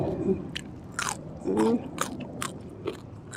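Crisp fried chicken skin served with spicy Thai-style salad is bitten and chewed, giving a series of sharp, close crunches in uneven succession amid wet chewing, with faint murmuring between bites.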